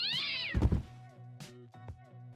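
Several cats meow and caterwaul, one long rising-falling yowl followed by a scuffle thump and shorter meows, close and clear with no talk.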